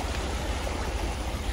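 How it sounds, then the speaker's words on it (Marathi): Flowing stream water runs as a steady, close wash of broadband noise with no rhythm, continuous and fairly loud, with no voices present. "ते वाहतं पाणी आहे"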